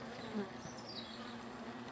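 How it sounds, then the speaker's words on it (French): Steady buzzing of bees at a hive entrance with a deeper, louder drone of hornets hunting them passing close by, continuous hum without pause. "Il y a des frelons qui restent en bas, comme ça, qui chassent les abeilles en bas."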